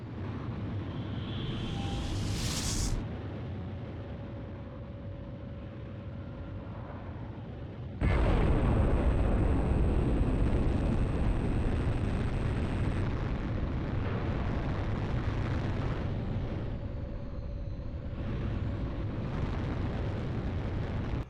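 A nuclear bomb detonates in the Ace Combat Zero flight game: a loud, sustained, broadband roar that erupts suddenly and rumbles on over a constant jet-engine drone, with no talk.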